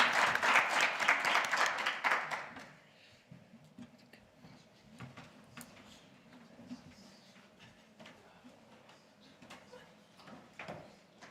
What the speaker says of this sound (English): let's make some big applause now.